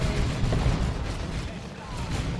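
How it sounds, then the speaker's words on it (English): A grenade barrage bursting in the Dawn of War 2 strategy game during a 3v3 match: a dense, continuous rumble of overlapping blasts and crackling detonations, loud and unbroken for the whole short stretch. "Oh, grenade barrage it was."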